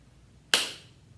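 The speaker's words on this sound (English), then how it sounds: "So if we were to play a quarter note using our hands, it would sound like this." One sharp hand clap marks a single quarter-note beat, close and crisp with a short decaying tail, alone against quiet room noise.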